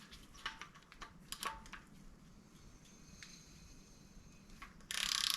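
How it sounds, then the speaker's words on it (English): A hand ratchet turns the crankshaft bolt of a pulled Suzuki F6A DOHC turbo engine during maintenance, giving scattered close clicks and pawl ticks, with a louder burst of ratcheting at the end. "I'm gonna put this bolt back in so I can crank the whole thing until everything lines up."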